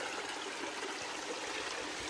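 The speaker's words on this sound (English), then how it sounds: "And now we're transversing through this bigger creek." Water rushes and trickles steadily over rocks, a close, continuous hiss of a flowing creek with nothing else heard.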